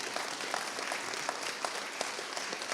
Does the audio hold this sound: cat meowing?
no